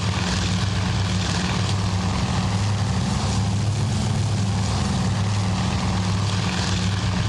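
A large formation of propeller-driven warplanes drones overhead in a Battle of Midway naval strike in the Task Force Admiral game, a dense, steady engine roar that fills the whole stretch without letup.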